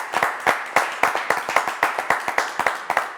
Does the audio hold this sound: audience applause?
yes